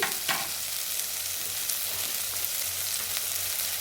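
Salt being stirred into pepper rasam in a pot, a soft continuous scraping and liquid swirl with faint sizzle, steady and close, no voices.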